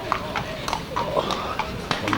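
Horse hooves clip-clop in a sparse, uneven rhythm of sharp knocks, fairly close, with people talking quietly in the background.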